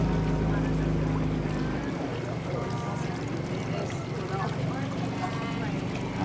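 A boat motor hums low and steady while water rushes along the hull, with faint voices mixed into the constant background wash, at Las Casas Filipinas de Acuzar beach resort in the Philippines.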